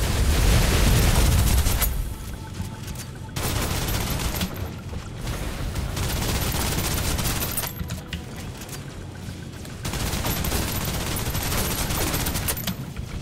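Heavy enemy gunfire in the video game Snowbreak, with loud sustained bursts of rapid shots that break off and resume several times, close and dense.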